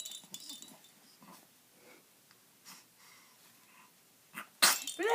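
A person gives a single sharp, loud sneeze near the end, after several seconds of quiet sniffing and breathing close to the microphone.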